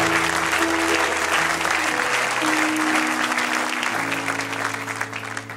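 Congregation applause at a French-language church service, a dense sustained wash of clapping filling the full length, with steady tonal music or organ notes running underneath and easing slightly toward the end.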